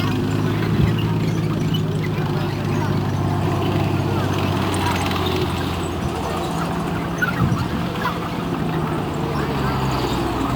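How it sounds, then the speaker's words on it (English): A silenced tank idles and runs at a museum display, a low steady engine rumble with occasional clanks, heard under someone talking nearby throughout. "You notice this vehicle is considerably quieter than the Sexton because it is silenced."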